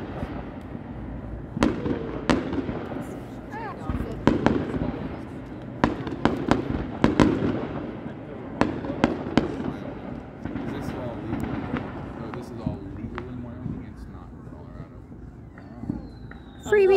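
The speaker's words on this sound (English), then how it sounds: "Freebie fireworks!" Fireworks go off over a Fort Collins neighbourhood: sharp bangs and crackles burst irregularly at a moderate distance, with rumbling echoes between them and voices talking now and then.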